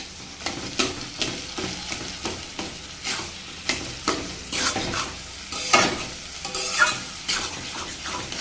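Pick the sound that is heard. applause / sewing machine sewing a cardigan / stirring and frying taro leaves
stirring and frying taro leaves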